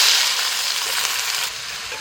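Onions frying in well-heated oil for a quail biryani, a steady dense sizzle that holds loud and constant, then drops slightly in level near the end, with no voices.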